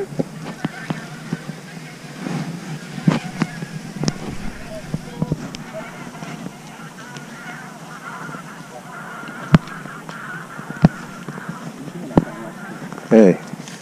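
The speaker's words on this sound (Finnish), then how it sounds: "Aikamoinen kaakatus." Geese honk and cackle at a sea bay, with scattered loud honks and clucks breaking over a low background murmur. Human voices can be heard at times.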